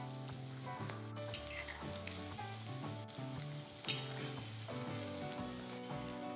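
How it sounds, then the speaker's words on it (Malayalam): Small pieces of chicken fry on high flame with curry leaves and slit green chilies, a loud continuous sizzle with occasional stirring scrapes, close up, with no talking. "വീണ്ടും 1 മിനിറ്റും കൂടെ ഹൈ ഫ്ലെയിമിൽ കുക്ക് ചെയ്യാം."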